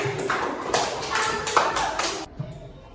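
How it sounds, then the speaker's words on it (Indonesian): A classroom of students claps for a group that has just presented, a brisk burst of scattered hand claps lasting about two seconds before cutting off, with a voice over it. "kita berikan tepuk tangan untuk kelompok 3"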